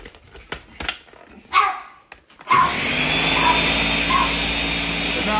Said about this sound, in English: Now I'm just going to let it blend up